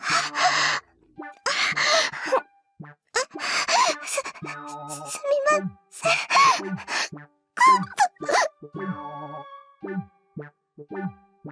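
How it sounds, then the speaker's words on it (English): Labored, ragged breathing and repeated gasps and groans from a young woman in a visual novel scene, voiced in uneven bursts with pauses between them, some strained and drawn out, others short and sharp. "Her breathing was extremely labored."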